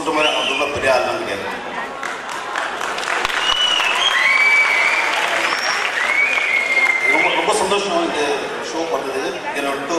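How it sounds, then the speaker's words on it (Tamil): An audience at a stage event bursts into loud, sustained applause mixed with whistles and crowd voices, and people talk throughout. "உங்கள் உற்சாகமான கரகோஷத்தின் மூலமாக"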